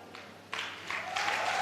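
Applause in a speech hall as four people are called on stage, starting faint, then rising in steps into a fuller burst of clapping over a second and a half.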